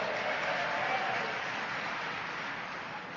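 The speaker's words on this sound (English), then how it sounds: "Drinking got a round of applause?" An audience at an AA speaker meeting in Ocean City, Maryland, breaks into a round of applause, a dense, steady wash of many hands clapping that fades slightly toward the end.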